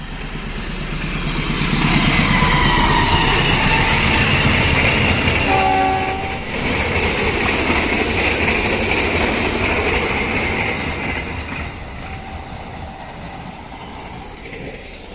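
A special train hauled by a locomotive pulls away from Bango 2 station, its diesel engine rumbling loud and near while a long horn blast sounds, then a brief higher toot, as wheels clatter steadily along the rails.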